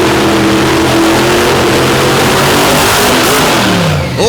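Monster trucks Aftershock and Playing Hookie race side by side in round one at an arena event, their engines roaring loudly and continuously, revving and shifting pitch before a quick drop at the end.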